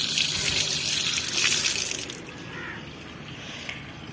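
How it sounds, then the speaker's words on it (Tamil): Apple cherries are washed under a running kitchen tap, a steady close stream of splashing water that drops to a quieter trickle partway through. Nobody talks. "இப்போ நம்ம இதை கழுவோம் கழுவிட்டு சாப்பிட்லாம்"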